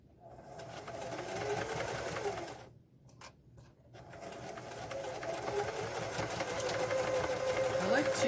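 A sewing machine stitches the seams of a drawstring bag, a steady close mechanical whir with a brief pause midway before picking up again and running continuously.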